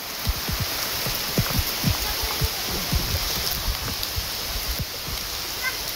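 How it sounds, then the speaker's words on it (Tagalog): Rain falling steadily, a constant wash of patter with scattered nearer drops ticking out individually above it, fairly close and moderate in level. "Basta makapagpalipad tayo habang umuulan. Enjoy natin yung ulan."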